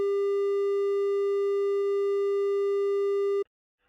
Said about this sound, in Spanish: Escuchemos una forma de onda triangular de 400 Hz